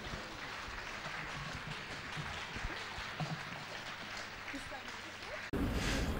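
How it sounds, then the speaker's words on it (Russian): Faint, steady applause from an audience greeting a female band soloist at a city garden concert, a soft continuous patter with voices underneath, cut off abruptly near the end by a louder burst. "И ваши аплодисменты"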